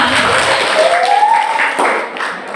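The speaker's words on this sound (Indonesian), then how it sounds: "Tepuk tangan untuk kita semua." A seminar audience claps together, a loud, close wash of applause that holds steady and then tapers off, with a brief high tonal sound drifting through the middle.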